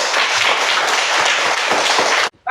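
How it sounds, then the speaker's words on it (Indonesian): Students in a classroom applaud together, a dense burst of clapping that fills the room for over two seconds before cutting off abruptly, with no voices over it. "tepuk tangan buat kalian."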